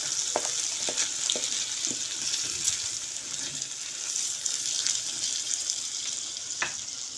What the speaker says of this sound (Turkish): Pirincimiz kavruldu arkadaşlar.